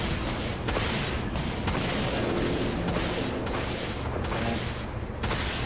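Warship weapons firing in the video game Dreadnought, a loud, continuous barrage of booming shots and blasts that repeat irregularly throughout, with no talk over them.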